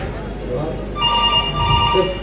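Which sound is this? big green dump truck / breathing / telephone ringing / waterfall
telephone ringing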